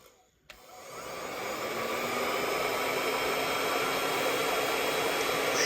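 A heat gun blows hot air to shrink yellow heat-shrink tubing around a cable: after a brief click at the start, a steady, loud broadband whoosh rises and holds without a break.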